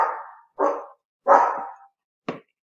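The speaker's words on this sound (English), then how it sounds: "Watch out for my guard dog." Guard dog barking in a home kitchen, four sharp barks spaced irregularly, loud and close, with silence between them.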